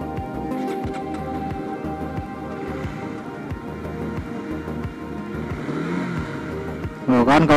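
A Honda CB150R motorcycle engine idles with a steady throb, then revs sharply upward in the final moment, loud and close.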